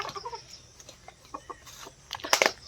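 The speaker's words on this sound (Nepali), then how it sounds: "त्यहाँनिर अर्को नि भाले छ, यो लटन भाले हो" A Lohmann rooster on a small farm gives a few short clucks and calls nearby, ending in a louder burst of two or three sharp squawks.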